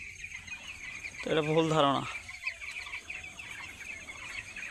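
Poultry-farm chickens let out a short burst of clucking that rises briefly above a constant farm hum, with someone talking over the background.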